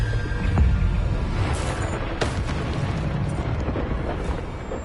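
A Bombarda spell blast in Hogwarts Legacy erupts as a loud, sustained rumbling explosion, a dense roar with crackling bursts running the whole stretch without letup.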